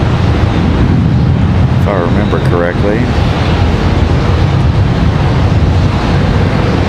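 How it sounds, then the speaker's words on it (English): Strong wind buffeting a microphone outdoors at Charlotte Douglas International Airport, a constant loud low roar filling the whole stretch, with a person speaking briefly over it. "Windy the last time we were here too"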